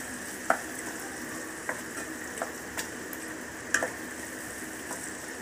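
Spices with turmeric powder frying in a pan give a soft steady sizzle from close by, broken by a few sharp ticks and clinks of stirring, with no talk.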